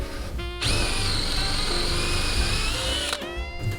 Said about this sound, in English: I have this 5/8 inch paddle bit, which is just a little bit bigger than the rebar itself